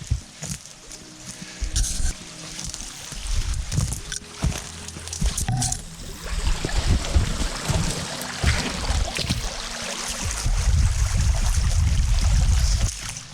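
A brook near East Mountain outside Truro, Nova Scotia, runs steadily as a broad, continuous wash of flowing water, close by and fairly loud, with scattered crunches and knocks from movement through brush along its banks.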